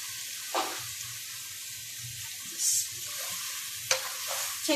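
Okra hits hot oil in a pan and fries with a steady soft sizzle, broken by a few louder stirring scrapes and spatters close by.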